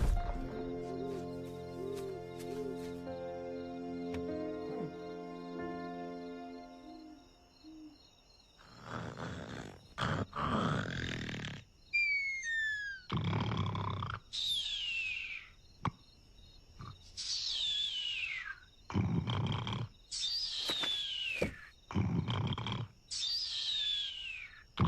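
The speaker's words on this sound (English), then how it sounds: "This is like trying to sleep in a lumber mill with all that snoring." Loud, exaggerated cartoon snoring starts after a sustained musical tone. Rhythmic rasping breaths repeat every few seconds, each followed by a whistling exhale that slides downward.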